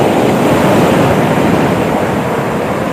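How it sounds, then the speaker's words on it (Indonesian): Ocean waves on a south coast beach at night, running high, a loud continuous wash of surf close by with no break over a few seconds. "Ini ombaknya katanya lagi agak besar, jadi kita harus hati-hati."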